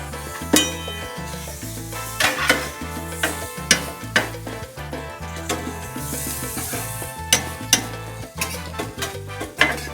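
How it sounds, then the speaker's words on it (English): Shrimp and crab being stir-fried on a griddle: rhythmic scraping and clanking of metal spatulas against the flat top with a steady sizzle underneath, irregular hits throughout. "Let's do a little stir frying."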